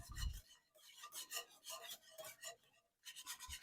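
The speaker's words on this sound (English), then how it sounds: "Let me whisk it up." A whisk stirs gravy seasoned with salt and pepper, giving quiet, quick rhythmic scraping strokes close by, with a brief pause near the end and no voices.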